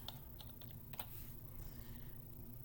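Quick keystrokes on a computer keyboard, a handful of light clicks in short bursts over steady background hum, close by with no talking.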